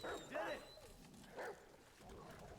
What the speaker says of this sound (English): when I shoot the dog, they make a distinct noise